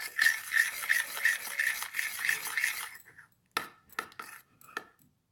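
Cloud slime mixture is stirred in a bowl with a steady, rhythmic rubbing and squishing for about three seconds, then a few separate taps and scrapes follow, close and fairly quiet.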